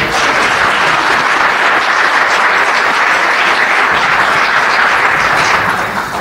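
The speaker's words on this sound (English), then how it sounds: "let's have another round of applause for the phenomenal faculty who have won the College Awards" An audience at the 2022 University of Findlay Faculty Awards gives faculty award winners a steady, loud round of applause that holds evenly throughout before easing slightly at the end.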